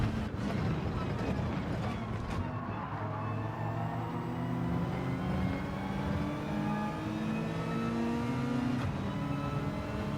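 A race car in Gran Turismo 7 on the Red Bull Ring revs and accelerates through rising gear sweeps, a loud continuous engine drone throughout.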